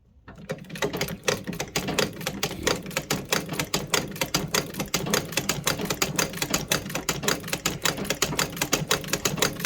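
A Singer 29-4 treadle sewing machine stitching steadily, with a fast, even mechanical clatter of rapid needle strokes that is loud and close and runs continuously after a brief start.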